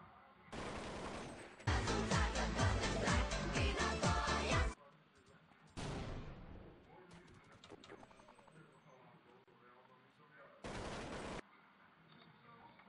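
Video game gunfire comes as loud rapid bursts and single shots, separated by quieter gaps full of scattered in-game clicks and effects, with no talk over it.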